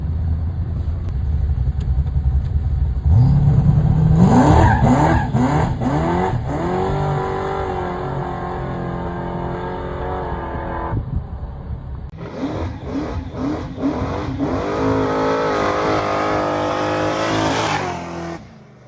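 A loud, rough drag race car engine revs and idles nearby, rising and falling in pitch over several seconds, with sharp crackles and a final roaring burst.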